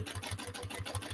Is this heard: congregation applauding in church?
no